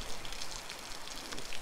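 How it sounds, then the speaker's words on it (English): Steady rain falls all day outdoors where a combine is being washed off, a dense, even patter of drops with no voices. "It has literally been raining all day"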